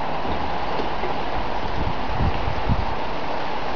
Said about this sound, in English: Kind of a lot of rain all of a sudden.